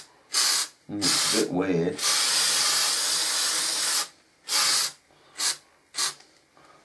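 Aerosol spray paint hisses in several bursts onto a Hornby model railway station platform, with a long continuous blast in the middle and shorter puffs after it; a person speaks briefly near the start.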